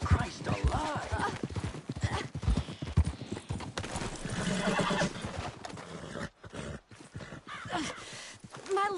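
Hooves clip-clop and a horse whinnies amid dense effects in Red Dead Redemption 2, with a voice talking over the busy mix.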